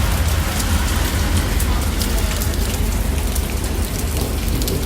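Steady, heavy rain patters densely and continuously on a surface during a walking tour in Argentina, close and loud, with no talking.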